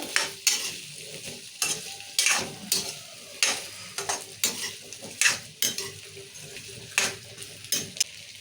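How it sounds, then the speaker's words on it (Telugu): Potatoes sizzle in a little oil in a pan, close and steady, with frequent sharp scrapes and clinks of a spoon stirring them and no talking. "కొంచెం నూనె వేసుకొని ఆలుగడ్డ వేసుకోవాలి"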